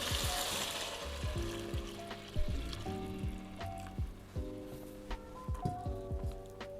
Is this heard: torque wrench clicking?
no